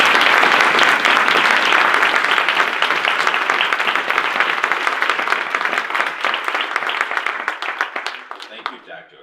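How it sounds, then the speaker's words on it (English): Audience applause at a university MLK event fills the room, loud and dense with rapid overlapping claps, then gradually thins and fades toward the end. "let's welcome Ken with a one round of applause"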